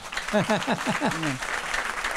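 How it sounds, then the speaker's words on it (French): A worship congregation breaks into applause for the Lord, with a voice speaking over the first part before broad, steady clapping carries on alone. "applaudissez le Seigneur"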